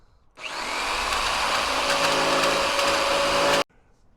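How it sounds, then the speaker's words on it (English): A jigsaw cuts through plywood in one continuous burst of about three seconds, a loud close-up buzzing whine that starts and stops abruptly with quiet on either side. "Let's get this cut out. I'm going to use my Goodwill jigsaw."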